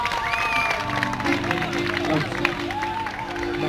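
Audience applause and crowd murmur at an outdoor country concert during a town festival in Olsztynek, steady clapping over a low hubbub with faint sustained musical tones.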